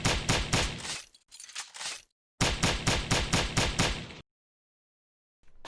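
A gun firing in the video game Hadal Calm, sharp shots in quick rhythmic bursts, loud and close, broken by short gaps and ending in silence.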